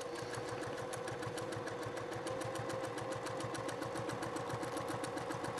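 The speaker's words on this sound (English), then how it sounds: "I'm gonna lay down some top stitching next to that turquoise thread, but not right on top of it" A sewing machine running steadily while it lays a line of top stitching beside a seam on a padded gear bag, with an even rapid mechanical chatter and hum throughout, fairly quiet and close, with no voices.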